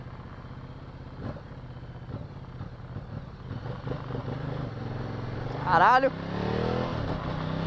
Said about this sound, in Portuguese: Fazer um test drive aqui na motoca.